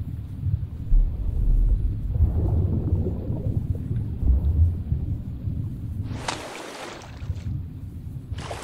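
Low rumbling thunder rolls continuously under a steady wash of rain in the horror game Horror Tales: The Beggar, with a brighter hissing gust near the end.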